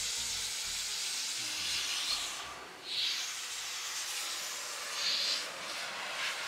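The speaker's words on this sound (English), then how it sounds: "He got his blower out. It's actually quieter than my one from Big Boy." Air blower drying a small Mini after a wash, a soft continuous hissing rush of air that swells in a few gusts as it is aimed around the car, fairly quiet and without talk.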